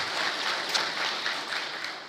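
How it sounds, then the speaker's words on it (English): An audience applauds a speaker, Dr. Rodriguez, at a talk on Parkinson's disease care: a dense, even wash of many hands clapping, moderately loud, holding steady for about two seconds without speech. "round of applause for Dr. Rodriguez and everything"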